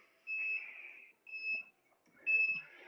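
A workout interval timer sounds three sustained electronic beeps in an even rhythm, each lasting under a second with short gaps between. The beeps are clear and fairly close against a quiet room, and no one speaks over them.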